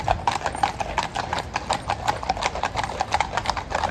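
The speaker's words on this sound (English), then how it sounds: "I can hear horses." Horses' hooves clip-clop steadily on a Belgravia street in London, near Buckingham Palace, a quick regular rhythm of hard knocks with light traffic murmur behind.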